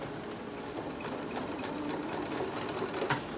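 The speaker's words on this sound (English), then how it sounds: "So I'm going to continue stitching" A sewing machine stitches through a layered paper alphabet scrapbook page, a steady close whirring hum with rapid needle ticks running throughout, no voices.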